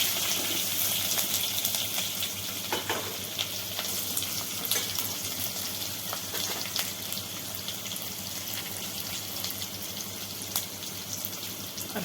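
Onion, mustard seeds and curry leaves fry in hot oil with a steady, close hiss and crackle and occasional sharp pops, continuous and unbroken by speech.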